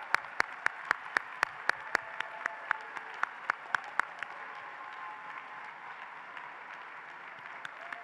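A graduation audience at a spring 2023 law school commencement breaks into sustained applause that fades toward the end, with a few sharper, louder claps standing out near the start.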